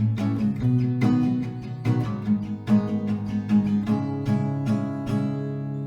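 An acoustic guitar strums the final chord progression of a song with steady, full downstrokes that ring on over a sustained low end.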